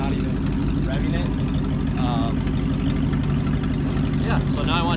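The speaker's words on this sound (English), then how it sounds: "let me know what you guys think I should do to the exhaust, because I still want it to be fairly loud" A pickup truck with a loud exhaust idles with a steady, deep rumble that fills the whole clip, while a person talks over it.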